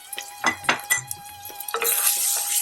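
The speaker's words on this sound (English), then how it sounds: "I'm going to quickly stir this." A spoon stirs masala paste in a metal pot, making several quick scraping clinks, followed by a soft sizzle. Close and clear, with no talking.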